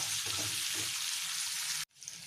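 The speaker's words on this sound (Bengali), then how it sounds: "একটু হালকা ভেজে নিতে হবে সব" Vegetables lightly frying in oil mixed with butter for a chicken stew make a steady, hissing sizzle with a few low stirring bumps, then cut off abruptly before resuming more faintly.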